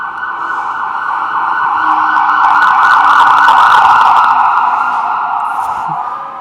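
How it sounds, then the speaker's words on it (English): An ambulance siren passes by outdoors, a loud, steady wailing tone that swells to its peak and then slowly fades, with faint traffic beneath. "in this moment that one ambulance just passed by"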